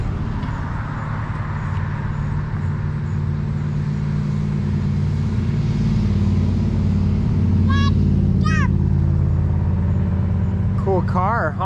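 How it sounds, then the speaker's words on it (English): A car passes by a home garden with a steady, loud engine and road rumble that swells and fades gradually, while a few short high vocal sounds break in near the end. "Cool car, huh?"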